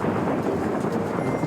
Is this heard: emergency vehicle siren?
no